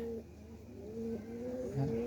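Pigeons coo in soft, rolling low calls, close and fairly clear, repeating over a light background hum.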